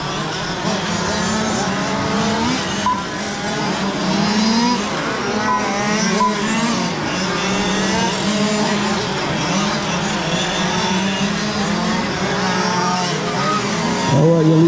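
RC cars race around an outdoor track, their high-pitched motors whining and shifting pitch as they pass in a continuous, dense buzz while a race announcer talks over the action.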